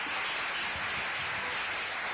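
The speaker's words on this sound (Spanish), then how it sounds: "Recibámoslos con un aplauso." An audience applauds student readers at a literary talk, a dense, steady wash of clapping lasting about two seconds with no voices.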